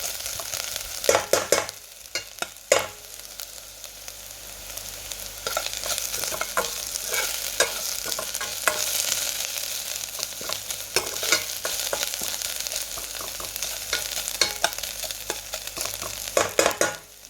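Garlic and ginger sauté in hot oil for a fish curry, a steady close sizzle broken by frequent sharp scrapes and clatters of a spoon stirring the pan, with no voices.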